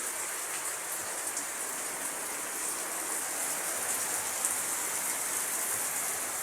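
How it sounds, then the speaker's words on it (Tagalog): Steady, heavy rainfall hisses without pause, dense and close, with scattered drops pattering on surfaces. "para maniwala kayo malakas yung ulan"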